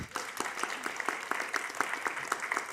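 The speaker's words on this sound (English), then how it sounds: "Give everybody a round of applause there." An audience at a panel discussion on sustainable, regionally balanced industry claps together, a steady burst of applause in a hall that runs evenly throughout.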